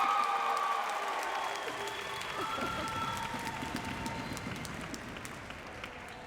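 Audience applause at a high school graduation ceremony, a dense, steady wash of many hands clapping that fills the hall throughout and stays fairly even in level.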